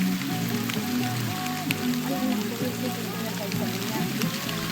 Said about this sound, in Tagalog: Mag 10 minutes naman tong ulan.